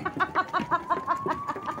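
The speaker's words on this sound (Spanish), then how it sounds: "Rara es la gallina que tiene la canilla para atrás." A chicken clucks in a quick, regular series of short nasal calls, close and fairly loud.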